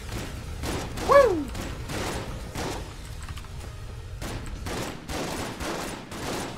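Rapid shotgun blasts in the video game Enter the Gungeon, a dense fusillade of loud booming shots and mechanical clatter continuing steadily over game music, with a brief rising zap early on.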